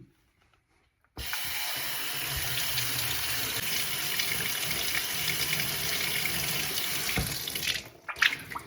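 Water running from a tap fitted with a water-saving kit, which starts abruptly after a moment of near silence. A steady close hiss and splash follows into a sink until it is shut off near the end.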